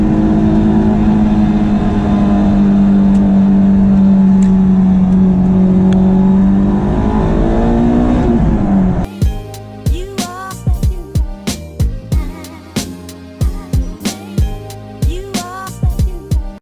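Honda S2000 engine heard from inside while driving on old tires, a sustained droning rev that sweeps down, then a run of sharp, rapid rising and falling revs in quick bursts.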